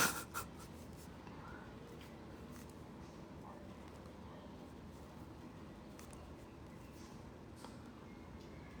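A pen or pencil scratches steadily across paper at close range while a leg is being drawn, a continuous soft rasp with brief stroke changes and no voices.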